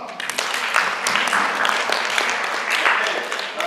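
Children at a county children's assembly in Nairobi, Kenya, break into a steady round of clapping, a dense, even patter of many hands that holds at a moderate level throughout without letting up.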